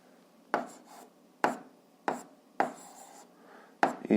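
Pen writing out a math solution on paper, heard close up as five separate bursts of scratching strokes with quiet pauses between them.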